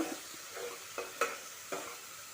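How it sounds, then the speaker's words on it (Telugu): Masala spices being mixed into tomatoes in a frying pan for restaurant-style chole, with several soft scraping stir strokes over a faint sizzle. "ఈ మసాలాలన్నీ టమోటాకు బాగా పట్టేటట్లు మిక్స్ చేసుకోవాలి"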